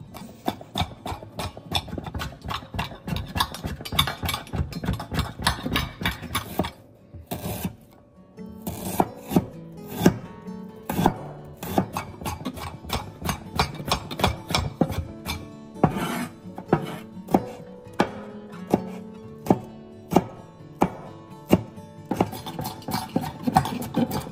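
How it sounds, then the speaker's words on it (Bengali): Kitchen knife chopping garlic, onion and ginger finely on a board, a rapid, steady run of crisp close-up chops with a brief pause partway, then resuming at the same brisk rhythm. "রসুন, পেঁয়াজ আর একটু আদাকেও আমরা ছোট ছোট পিস করে কেটে নেব।"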